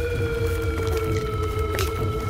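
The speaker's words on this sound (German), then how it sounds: "Ist ein Wolf." A wolf howls in the video game Assassin's Creed Valhalla, a long sustained tonal wail held steadily throughout over a low rumbling game background.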